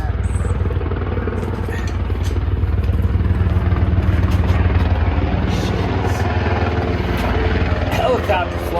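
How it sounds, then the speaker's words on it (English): A helicopter passes overhead, its loud rotor thrum steady and droning throughout, with a speaking voice mixed in over it. "Helicopter flying over."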